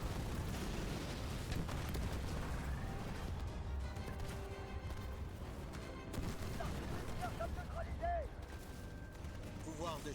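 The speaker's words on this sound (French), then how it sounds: "Mon Grizzly essuie des tirs d'artillerie." In the Halo Wars 2 video game, artillery fire pounds a Grizzly tank with a steady barrage of rumbling blasts and gunfire, mixed with game effects and faint tonal sounds under a quiet background.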